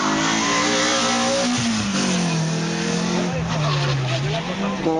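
A Renault Clio at a hill climb on the Castell de Guadalest road accelerates hard, its engine note rising and falling through gear changes, loud and close, with brief tyre squeal.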